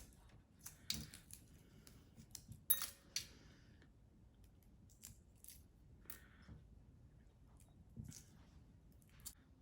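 An egg's shell is peeled away in small crackling, crinkling snaps and light taps, very faint and close, arriving in irregular bursts with quiet pauses between them and no talk.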